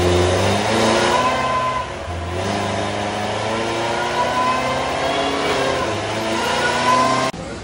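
Supercharged Dodge Hellcat V8 revving hard at a private airport, a loud, close, sustained engine roar with rising and falling pitch as the throttle is held and blipped.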